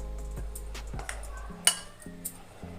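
Peanut paste mixed with flour and powdered sugar in a bowl for eggless peanut cookies: soft scraping and a few light clinks of a spoon against the dish, close and quiet, with one sharper tap.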